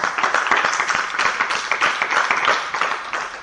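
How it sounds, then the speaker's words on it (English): A crowd claps steadily with dense, even applause throughout, loud and close, no talking. "Round of applause, man."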